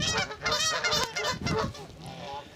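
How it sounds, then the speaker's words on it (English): Geese honk loudly and close by at a nesting area on the shore of Ullswater, a burst of repeated harsh calls overlapping one another before tailing off near the end. "geese are very noisy"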